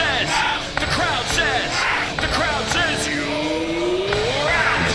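A packed cricket stadium crowd at the SCG during an India vs Netherlands T20 World Cup game roars and cheers after a catch by Virat Kohli, a loud continuous swell of yelling and whooping.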